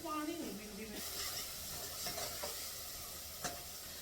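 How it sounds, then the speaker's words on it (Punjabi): Masala roasting in a pan, a quiet continuous sizzle and hiss with occasional stirring scrapes, a faint voice briefly audible at the start. "ਮਸਾਲਾ ਹੁਣ ਭੁੰਨਣ ਲਈ ਛੱਡੂਗੀ ਭੁੰਨ ਭੁੰਨ ਕੇ ਲਾਲ ਹੋ"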